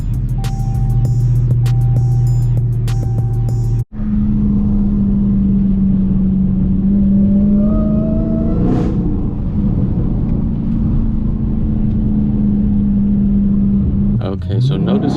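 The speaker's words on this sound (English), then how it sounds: "I'm giving it gas to keep the tires spinning and keeping the RPMs up" A car doing donuts holds a loud, sustained engine drone with rising and falling revs and tire noise, broken by a sharp cut early on. A voice seems to speak over it at times.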